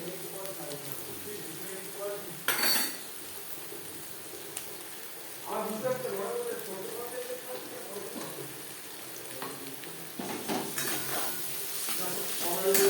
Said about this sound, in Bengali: আলু ও হিঙের সাথে মুগ ডাল বাটা বেশ ভালো করে মিক্সড করে দেব